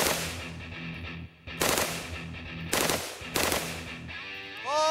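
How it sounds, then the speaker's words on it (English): A SIG 552 Commando rifle fires in three-round burst mode outdoors: several sharp, loud close bursts separated by pauses, each leaving a ringing decay, with no talk over them. "Three shot burst to start."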